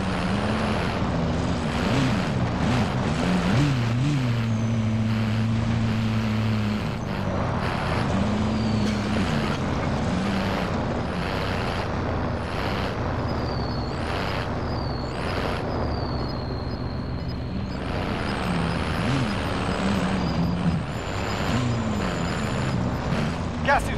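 A vehicle engine drones steadily while driving in a Call of Duty: Modern Warfare battle royale match, its pitch rising and falling with the throttle, mixed with game sounds and people talking throughout.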